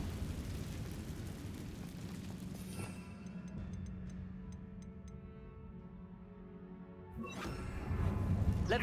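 A Confringo fire spell blast in the video game Hogwarts Legacy: a loud, sustained roaring burst over a low rumble, followed by a brief tinkling crackle of sparks and a second surge of noise near the end.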